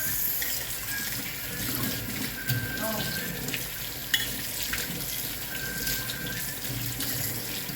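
Strong water pouring from a tap into a sink in a hotel residence in Abu Dhabi, a loud, steady rushing hiss that runs throughout, with faint background voices underneath.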